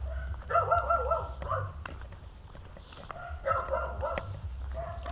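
Several dogs bark at night around nine o'clock on a village road in the Philippines, yelping in clustered bursts at moderate distance over a low background rumble.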